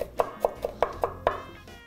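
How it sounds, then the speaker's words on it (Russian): Knife roughly chopping salmon-soup ingredients, trimmed ends and all, on a cutting board in a home kitchen: six sharp, evenly spaced thuds in quick succession, close and clear with no talk. "И прямо крупно порублю."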